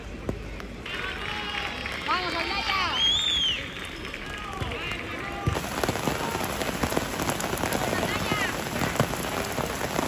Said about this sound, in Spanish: Lluvia la que está cayendo